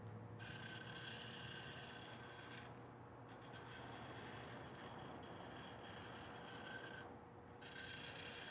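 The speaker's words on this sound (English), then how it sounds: "you can stop at the end of each stroke and check that the bevel is solidly onto the stone" A tool blade is pushed in repeated strokes with its bevel flat on a sharpening stone, making a faint, steady gritty rasp with slight changes between strokes.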